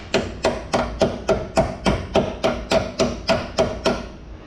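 Regular hammer-like strikes from pliers on a brake caliper during a replacement on a Camaro, about thirteen sharp metallic taps in a steady rhythm, close and fairly loud with no talking.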